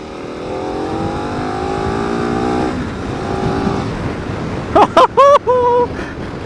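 A KTM SuperAdventure S motorcycle in street mode accelerates hard on the road, its engine rising in pitch through the gears with a shift, heard from the rider's position over steady wind rush, followed by a few short speech bursts.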